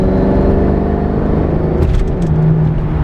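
A Mercedes E55 AMG with a modified transmission accelerates under light throttle, a low steady engine rumble and drivetrain hum building, with a short break in the drone as a gear change comes through near the end.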